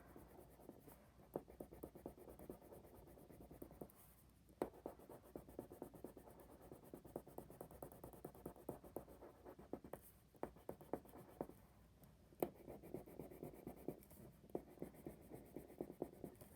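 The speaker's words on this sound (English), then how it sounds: "I'm going to be applying a lot of pressure so I can create a nice dark value with my colored pencil" A black colored pencil pressed hard against paper while shading gives a faint, close scratchy scribbling in quick repeated strokes, with brief pauses between bursts.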